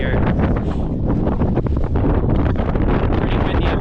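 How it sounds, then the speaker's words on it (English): Strong wind howling across the high mountain terrain of Beartooth Pass, loud buffeting gusts battering the microphone continuously with no voices. "Pretty windy up here, the wind's howling"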